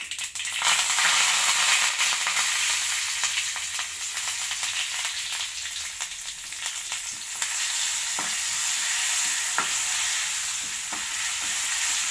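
Mustard seeds, turmeric and curry leaves frying in hot oil for a tempering, a loud steady sizzle with sharp crackling pops from the seeds running throughout, close up and without talk.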